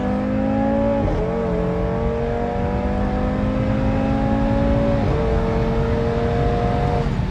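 A five-cylinder Audi RS3 accelerates hard on an unprepped road during a quarter-mile run. The engine drones loud and steady, and its pitch climbs, drops briefly at each gear change, then climbs again.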